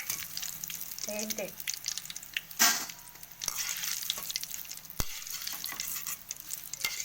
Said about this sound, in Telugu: నూనె వేడైంది, కొన్ని వేసుకొని తీసేసుకున్నాం